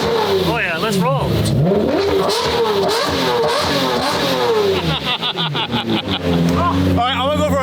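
A car engine revs and accelerates loudly while driving, with people talking over it throughout.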